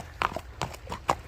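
Horse hooves clip-clop in a few close, distinct knocks with short gaps between them, sounding alone without voices.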